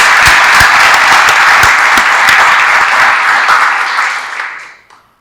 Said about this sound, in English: I know you've been clapping a lot tonight, but how about one more time for the whole group?